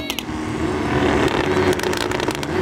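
A modified BMW M5 launches hard off the line in a drag race against a Nissan GT-R and a Ducati V4R superbike, a loud, dense engine roar rising steadily for about three seconds with no talk over it.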